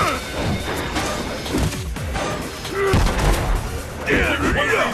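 Guile fires Sonic Boom attacks in a Street Fighter match against Zangief, with repeated whooshing projectile blasts and hit crashes over busy game effects, while a game voice calls out the move name over and over.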